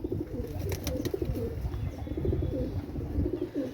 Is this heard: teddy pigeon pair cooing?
yes